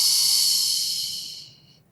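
A long, steady exhale during a Pilates back stretch, a close, airy hiss of breath that holds and then fades out near the end, with no talking over it.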